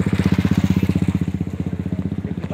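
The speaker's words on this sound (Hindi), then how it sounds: "देखिए बाइक भी जा रही है," A motorbike engine chugs steadily close by on a road running through a jungle, its rapid even firing pulses continuing throughout with no voices over it.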